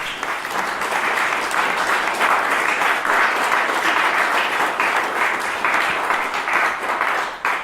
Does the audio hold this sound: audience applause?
yes